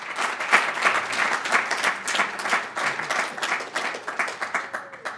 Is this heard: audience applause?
yes